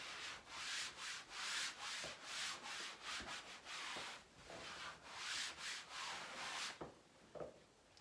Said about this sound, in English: Wipe the paste off the picture reel here.